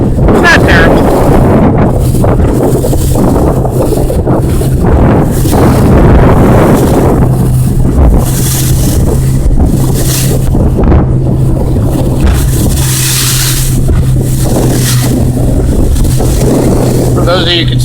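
A Carolina Skiff side-console boat pounds over rough waves, with heavy wind buffeting the microphone and a constant roar of hull and engine, while someone talks loudly over the din.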